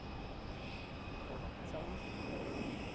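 Cessna Citation private jet passing at Boise Airport, a steady broadband engine roar at moderate distance, holding level throughout without clear rise or fade, with a faint whine on top.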